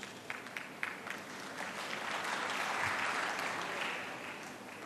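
Applause from a science congress audience rises into a steady, dense wash of clapping that swells mid-way and gently tapers, fairly distant and continuous with no talk over it.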